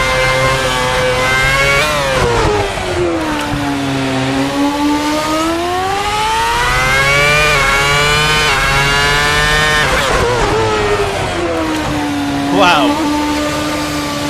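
A 2009 Formula One car engine in a racing simulator game, driven around a lap: a loud, continuous high-pitched whine rising and falling through gear changes for the whole stretch.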